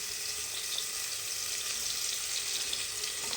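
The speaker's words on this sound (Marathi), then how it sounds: "असा कांदा असा परतून घ्यायचा चांगला" Onion frying in oil in a pan for plain khichdi, a soft, even sizzling hiss heard close and fairly quiet, steady throughout with no voices.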